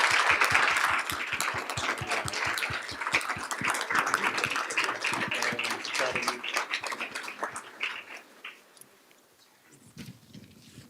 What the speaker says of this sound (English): How about another round of applause for Kelly Smith?